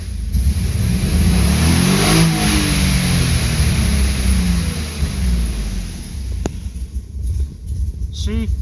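A BMW E36 fitted with a rotary valve engine, limiter near 6,800 rpm, is floored. The engine note climbs loudly, then falls away and settles toward a low idle.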